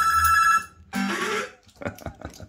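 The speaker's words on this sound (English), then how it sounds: "like a phone ringing in it" A Bell-Fruit Cash Force fruit machine rings with a bright, phone-like bell tone for about half a second, followed by a short burst of ringing and some muffled sounds.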